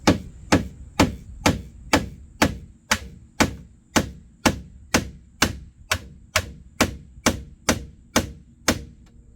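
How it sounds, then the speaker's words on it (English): A hammer strikes a chisel against a rivet head on a 2006 Audi TT Roadster, about twenty sharp metallic knocks in an even, steady rhythm, each ringing briefly, close and alone. "I'm just gonna use the chisel and the hammer and just kind of put it right between the head of the rivet and that."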